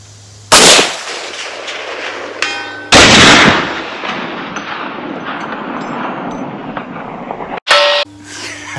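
Rifle shots from a 7.62x39 AR-style rifle at an outdoor range: three loud, sharp reports spaced a couple of seconds apart, each with a long ringing decay and a metallic clang of steel targets.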